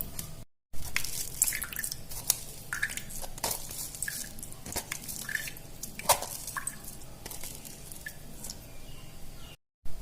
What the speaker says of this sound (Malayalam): ഇതിന്റെ നീര് ഈ ബൗളിലോട്ട് വീഴ്ത്താൻ നന്നായിട്ട് ഇത് വീഴുന്നുണ്ട്